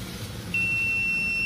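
A multimeter continuity test on an amplifier fuse: a sudden high, steady electronic beep starts and holds continuously, clear and close, over a faint low background hum.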